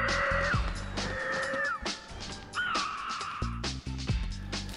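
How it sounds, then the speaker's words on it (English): A pteranodon in a Jurassic Park dinosaur battle game gives several harsh screeching cries, loud and near, over thumping game sounds and rumbles. "Gotta control that pteranodon you picked up in Primo's lab"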